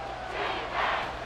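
A stadium crowd in Madden NFL 24 roars in a steady, dense wash of cheering during a goal-line play, loud and continuous for the whole moment.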